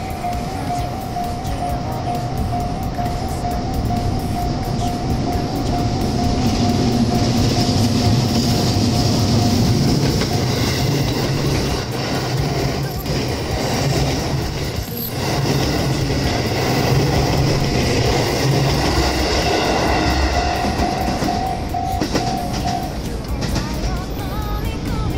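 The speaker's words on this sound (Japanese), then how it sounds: "こっちから列車がやってくるわけです" A freight train on the Umeda freight line rumbles past steadily for a long stretch, with a sustained tonal whine and clattering noise, while faint speech sits beneath it.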